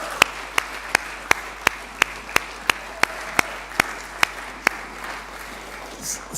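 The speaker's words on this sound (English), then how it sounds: "Can we give Jane a huge round of applause for everything she's done to bring us together?" Steady, evenly spaced claps, about three per second, from what sounds like a single person, fairly close, in an otherwise quiet room.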